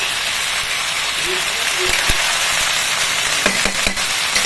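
Khaarkol leaves hit hot oil in a pan, sizzling steadily and loudly, with a few sharp pops and clinks of stirring scattered through the frying.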